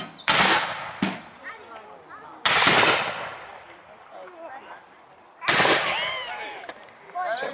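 Reenactors on a firing line loose ragged musket volleys by fire at Avoncroft, three loud bursts of overlapping crackling shots with quiet gaps and echo between them, and voices call out in the pauses.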